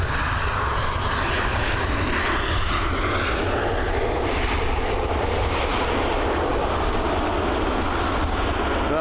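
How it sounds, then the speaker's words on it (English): A Boeing 737 landing at Dublin Airport produces a loud, continuous jet engine roar with broadband rushing noise that holds steady throughout. "that 737 touched down safely"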